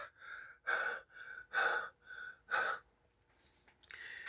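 A man doing a calming breathing technique takes heavy, gasping breaths in a steady rhythm, about six close, loud breaths in and out, then a quieter pause and a softer breath at the end.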